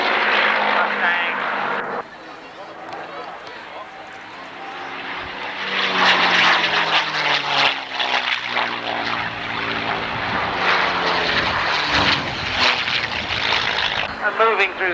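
A North American P-51 Mustang propeller aircraft drones overhead at the 1991 Alconbury airshow, its engine swelling and fading with distance while a commentator talks over the sound.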